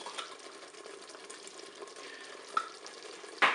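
Mushroom sauce with tomato paste is stirred in a Cookeo multicooker, a quiet sizzle and soft scraping running steadily, with a sharp clink near the end.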